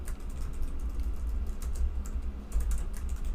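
Steady keyboard typing while someone writes Python code in a Jupyter notebook, a continuous run of quick, close key clicks with no talk over it.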